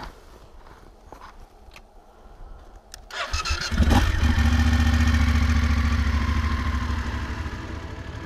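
A motorcycle engine cranks and catches after a few faint clicks, then settles into a loud, steady idle that continues close by, with no talk.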